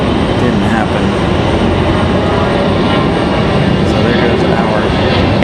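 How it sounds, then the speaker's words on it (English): An Airbus A319 jet departing Raleigh-Durham International Airport, a dense, constant engine roar that holds loud and even throughout, with no pause or letup. "A319 departure."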